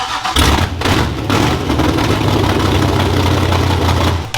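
A rebuilt derby car engine idles steadily up close, a low even rumble that holds throughout with no talking.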